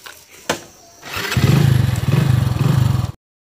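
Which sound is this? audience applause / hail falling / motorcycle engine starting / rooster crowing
motorcycle engine starting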